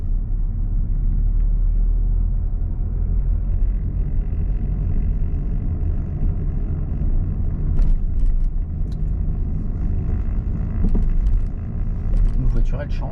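A car pulls away with gentle acceleration during a driving lesson, a low steady engine and road rumble heard from inside the cabin, with a few small knocks and rattles near the end.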